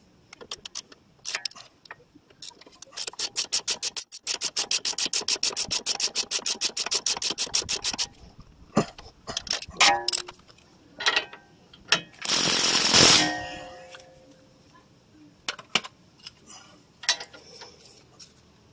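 A strut nut on a Lexus ES330 front strut is turned by hand with a wrench, giving a long run of fast, sharp ratchet clicks and then scattered metallic knocks. A short, loud burst of rasping follows.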